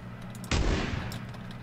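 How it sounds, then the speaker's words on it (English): A shotgun blast in PlayerUnknown's Battlegrounds goes off once, sharp and loud, with its boom decaying into a lingering rumble that carries across the rest of the moment. "I'm gonna rush him with the shotgun."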